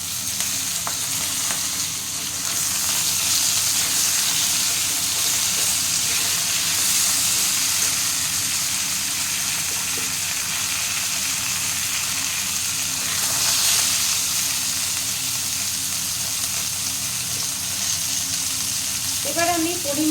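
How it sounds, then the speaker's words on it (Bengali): Potatoes, green chillies and drumstick pieces fry in hot oil for a Bengali fish curry, giving a loud, close, steady sizzle that hisses on for the full twenty seconds with no talking. "গন্ধটা উঠলেই আমি এখন এর মধ্যে দিয়ে দেবো আলুগুলো, কাঁচা লঙ্কা আর সজনে ডাঁটা সবগুলোই আমি দিয়ে দিলাম।"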